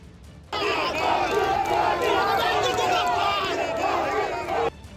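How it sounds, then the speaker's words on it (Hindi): Supporters at a political rally, BJP and TMC party workers in India, chant slogans and clap together, a dense roar of many voices that starts abruptly, holds steady and loud for about four seconds, then cuts off. "दोनों दलों के समर्थकों ने वहां जमकर नारेबाजी शुरू कर दी"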